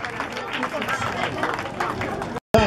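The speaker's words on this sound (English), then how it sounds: "If you are happy for them, can you clap for them?" Guests at a Nigerian wedding clapping for the couple, a steady stream of many hands with crowd murmur, cutting off abruptly near the end.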